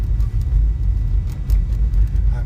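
Car driving home on a snowy, hazardous road, a steady loud low engine and tire rumble from inside the cabin with faint ticking above, no talking during this stretch.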